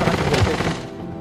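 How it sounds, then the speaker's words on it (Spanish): Gunfire in Call of Duty: Modern Warfare, a short loud burst of rapid shots crackling close by, fading quickly at the end. "¡Nos disparan!"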